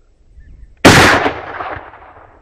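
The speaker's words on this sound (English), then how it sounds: "Shoot him through the shoulder." A single sharp rifle shot from a hunting rifle on a South African safari, loud and close after near silence, followed by a decaying rumble and echo.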